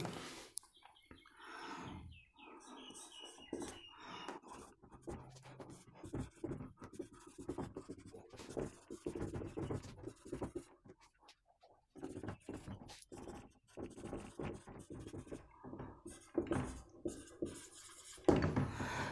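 Chalk or a marker scratches across a board during a physics lecture in short, irregular strokes, quiet and close, with pauses between bursts and no talking during the writing.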